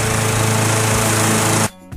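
A multi-purpose lawnmower engine runs with a loud, steady, rattling drone after its retractable starter cord is pulled, then cuts off abruptly near the end.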